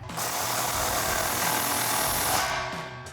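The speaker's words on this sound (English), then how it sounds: "We're just gonna grab our impact and 16mm socket and tighten this front clamp down." Power tool whirring steadily for about three seconds as an impact wrench with a 16mm socket tightens the front exhaust clamp of a Chevrolet Silverado 1500 single exhaust system, close and continuous, then tapering off.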